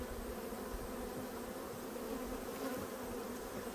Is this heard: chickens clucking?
no